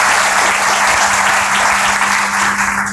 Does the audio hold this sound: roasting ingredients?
no